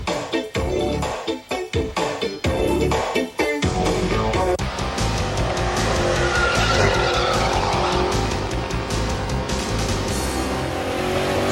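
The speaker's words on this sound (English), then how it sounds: "So now it's the tyre-tearing burnouts where they start slowly but build up" Cars do tyre-tearing burnouts at the Summernats car festival: engines rev hard in choppy bursts before settling into a loud, sustained roar with continuous tyre squeal and screech, close and overwhelming.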